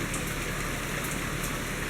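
Steady rain falls outside on a humid, foggy day, a dense, even hiss of drops pattering on surfaces that holds at one level throughout with no pauses and no voices.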